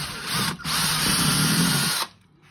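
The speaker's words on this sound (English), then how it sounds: "I'm just going to go ahead and drill a hole right through there." A drill on low speed bores through a clamped greeting card keepsake journal, a loud steady whir lasting about two seconds with a brief dip early on before it stops, no talking.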